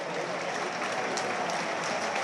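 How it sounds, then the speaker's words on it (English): Crowd clapping around a sports ground at a Saturday sports event, a steady, fairly faint wash of applause heard from a distance, with no speech over it. "But the applaud once again coming from around the ground."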